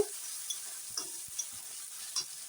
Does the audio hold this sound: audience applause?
no